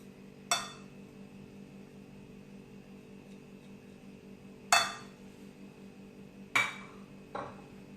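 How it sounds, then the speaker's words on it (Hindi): A spoon knocks against a bowl while dry spices and garlic, ginger and green chilli paste are mixed into a chicken marinade, giving three or four sharp, separate clinks with quiet gaps between them. "इनको अच्छे से मिक्स करके मैं इसकी मैरिनेशन तैयार कर लूंगी।"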